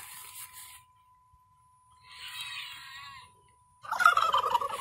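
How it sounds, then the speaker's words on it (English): Turkeys gobble in a video game after spawning, with two bursts of gobbling calls separated by a short gap over a faint steady tone, and a louder, more crowded burst of gobbling at the end. "The turkeys are spawned."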